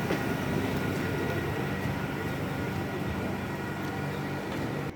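A Ranaghat local commuter train runs steadily and loudly nearby, its broad continuous rumble and wheel rattle holding for several seconds without a break.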